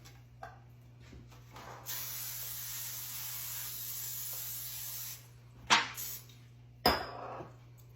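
A can of cooking spray hisses in one sustained burst for a chicken tamale pie, followed by a few sharp knocks of the can or pan in a quiet kitchen.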